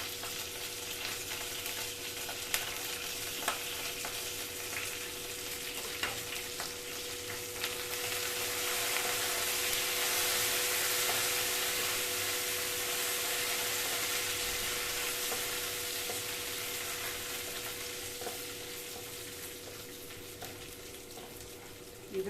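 Curry leaves, urad dal and chana dal frying in a hot kadai make a continuous hissing sizzle that swells slightly midway and stays steady for over twenty seconds.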